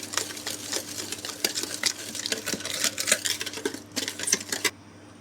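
Eggs and powdered sugar being whisked together in a bowl for a club cake, giving a steady run of quick clicking, scraping strokes, close and fairly loud, with no talking.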